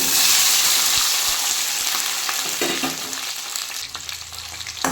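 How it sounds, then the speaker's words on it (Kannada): Tomato, green chili, ginger, garlic and onion fry in hot oil, sending up a loud, dense sizzle close by that eases slightly over a few seconds, with stirring scrapes and no talk. "ಟೊಮೆಟೊ ಹಣ್ಣು, ಹಸಿಮೆಣ್ಸಿನ್ಕಾಯಿ, ಶುಂಠಿ, ಬೆಳ್ಳುಳ್ಳಿ, ಹಾಗೆ ಈರುಳ್ಳಿ ಇದಿಷ್ಟನ್ನು ಫ್ರೈ ಮಾಡ್ಕೊಳ್ಳೋಣ ಬನ್ನಿ"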